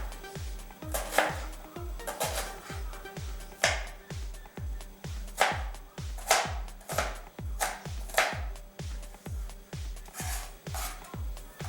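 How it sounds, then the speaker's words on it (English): Two onions diced with a knife for tomato sauce, a close, regular run of soft chopping taps on a board, each followed by faint scraping, heard alone. "you want to clean 2 onions and then you want to just dice them for the sauce."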